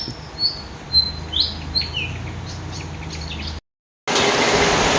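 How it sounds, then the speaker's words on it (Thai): Several short, bright bird chirps ring out over a low background hum on a rainy day, followed by a brief silence and then a burst of loud, hissing noise. "แต่เสียงนกก็ยังร้องอยู่เลยนะครับ"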